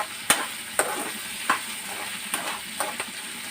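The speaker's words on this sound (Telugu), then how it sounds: "కొంచెం సేపు ఇలాగా ఫ్రై చేసుకుందాం." Coconut stir-fry sizzles softly in a pan, a faint steady hiss broken by five sharp spatula scrapes and taps at irregular intervals, with no voices.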